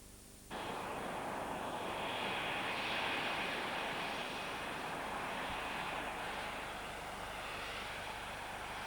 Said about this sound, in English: The F-117 stealth fighter, the first warplane designed from scratch to be invisible to radar.